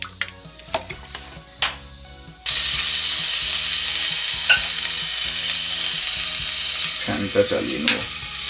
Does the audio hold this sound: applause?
no